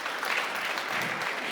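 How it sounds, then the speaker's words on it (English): An audience at a DLD 23 conference panel applauds, with a steady, fairly distant wash of clapping that holds throughout. "I think you should applaud her."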